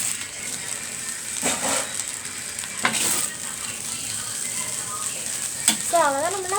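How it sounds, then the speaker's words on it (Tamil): Nasi goreng fried rice is stirred in a hot pan, with a constant close sizzle and repeated scraping and clinking strokes of the spatula. Faint background voices come through, and a bird chirps briefly near the end. "கொஞ்ச நேரம் நாசி கோரிங் கிண்டிட்டு எடுத்தோன்னா நாசி கோரிங் ரெடி."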